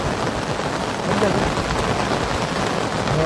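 Heavy monsoon rain pours down in a steady, loud, broadband hiss of drops on surfaces, continuous from start to finish with no voices.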